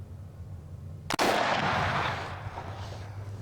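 A single loud rifle shot from an AR-15, SKS or AK-47 cracks sharply outdoors at sunset plinking, its boom rolling and echoing away over several seconds against a quiet background.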